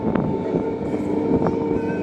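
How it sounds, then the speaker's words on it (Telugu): Kadapa–Arakkonam MEMU electric multiple unit train pulling out of Nagari station, a steady rumbling roll with a sustained motor hum and occasional brief clanks, close and continuous. "నగరి నుంచి మన ట్రైన్ బయలుదేరింది."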